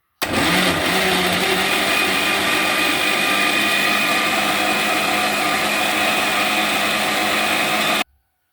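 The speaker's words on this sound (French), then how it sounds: "on va passer maintenant nos mandarines au mixeur" Electric blender mixing mandarins into juice, a loud, steady whirring motor that starts abruptly, runs evenly for about eight seconds and then cuts off, with no talking.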